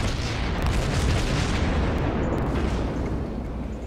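Warship guns fire in World of Warships, a Tier III Russian cruiser battle: a dense, continuous wall of heavy booming and rumbling gunfire with no pauses, loud throughout and with no talking.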